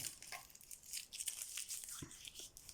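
Sticky tape is torn off a roll during a bead-craft project, giving a quiet, close crackling rip with small crinkly bursts.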